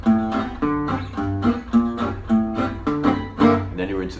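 Gypsy jazz guitar plays a minor-key intro with strongly accented bass notes alternating with chord voicings, in a steady rhythmic pattern of repeated strummed chords, close and clear, with no talking over it.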